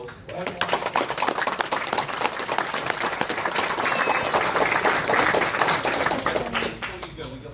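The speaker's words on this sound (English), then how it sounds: "let's give them a big round of applause" Audience applause after a wrestling legends panel at a Welsh comic con, a dense, steady wash of many hands clapping for about seven seconds with a few cheers mixed in.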